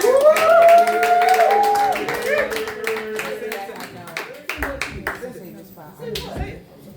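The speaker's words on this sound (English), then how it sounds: "Clap it up for the Ghetto Messiah." Audience clapping for a performer at a Rhythm & Soul open mic night, scattered claps and whoops over loud voices and cheering at first, then sparser individual claps and chatter as it dies down.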